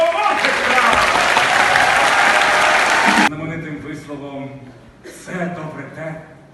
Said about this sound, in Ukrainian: Оплески більшого!